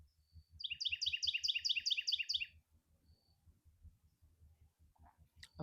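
A bird chirps close by in a fast burst of bright, repeated trills lasting about two seconds, then falls quiet. Soft low thumps tick steadily underneath, with a faint sharp sound at the very end.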